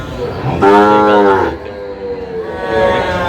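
Sahiwal calves on a cattle farm in Pabna moo loudly and close by, with one long harmonic call and a softer second bellow following.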